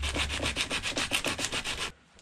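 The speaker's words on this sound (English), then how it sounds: "It's a really coarse grain sandpaper, this one." Coarse-grain sandpaper is rubbed in quick back-and-forth strokes, about a dozen rhythmic rasping passes close to the microphone, and then it stops.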